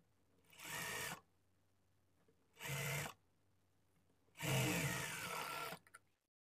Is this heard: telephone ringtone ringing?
no